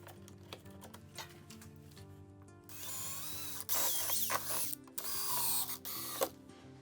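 A driver sets screws into Omniwall wall panels, with a quiet stretch of faint ticks before loud close whirring bursts of driving with brief pauses between.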